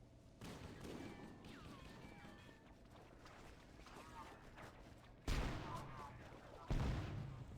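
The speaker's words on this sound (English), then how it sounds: "Cambit has to shotgun the" Shotgun blasts against sentinels in a Halo game, with two loud, sharp booms standing out over game effects and a quieter stretch of shooting and combat sound before them.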